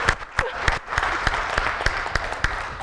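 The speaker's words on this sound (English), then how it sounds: "Alors les Sénégalais, applaudissez" Audience at an African agriculture storytelling event claps, with sharp individual claps standing out over a softer, moderately loud spread of applause lasting a few seconds.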